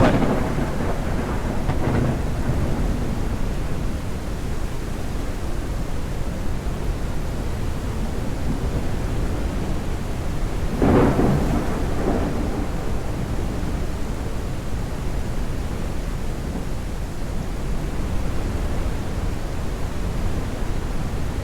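A thunderstorm in the tram driving game TramSim Munich: heavy rain hisses steadily throughout, and a low roll of thunder swells briefly near the middle.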